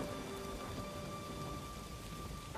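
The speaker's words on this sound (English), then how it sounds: "As the rain continued to fall" Heavy rain falls in a constant dense wash with a faint rumble beneath, steady and unbroken, with no voices over it.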